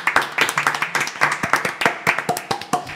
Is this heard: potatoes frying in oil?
no